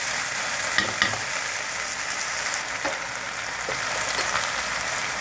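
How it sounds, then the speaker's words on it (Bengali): Onion paste fries in a pan for a tangy-spicy cauliflower dish, a steady close sizzle with a few light stirring scrapes and taps, no voices. "এই পেঁয়াজটা যে দিয়েছিলাম বাটা, ওটা ভাজা ভাজা হয়ে এসছে।"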